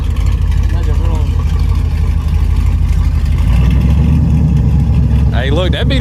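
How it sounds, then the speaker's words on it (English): Nitrous-fed engine in an S10 truck built to roughly 400 hp, rumbling steadily and loudly close by for several seconds with a rough low-end throb and a rising rev near the end, with voices talking over it. "I'll leave that motor with some nitrous on it. Let it run."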